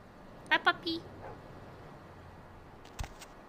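A dog named Buttercup in the video game Vampire: the Masquerade - Bloodlines gives two quick close barks and a short whine, then one fainter bark a couple of seconds later over quiet background.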